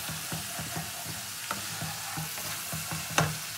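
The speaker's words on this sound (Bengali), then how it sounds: "দিয়ে এটা মশলার সঙ্গে খুব ভালো করে কষিয়ে নেবো।" Chilli powder and cumin powder sautéing in a frying pan for a capsicum rohu fish curry, a steady close sizzle broken by regular scraping strokes of a spoon stirring.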